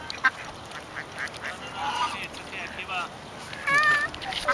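Ducks and geese at a pond where a child is being shown how to feed them give brief quacks and honks against steady outdoor noise, with a clearer honking call near the end while people talk nearby.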